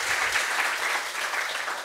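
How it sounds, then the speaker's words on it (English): Audience applause after a conference talk on simple ETL in Python, a steady, dense wash of clapping throughout, fairly close and even in loudness, with no voices over it. "So big applause."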